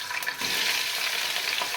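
Chicken hits hot oil with cumin seeds in a pan and starts frying with a loud, bright sizzle that swells and holds steady, with faint stirring; no voices.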